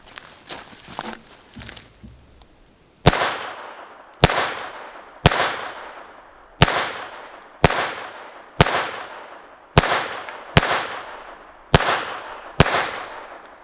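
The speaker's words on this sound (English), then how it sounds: "we're gonna try mixed ammo on all these again, but we're gonna shoot at some targets" Ten sharp .22 pistol shots ring out at a steady pace of roughly one every 1.2 seconds, each loud crack decaying quickly, fired at targets with mixed ammunition after a few seconds of quieter handling noise.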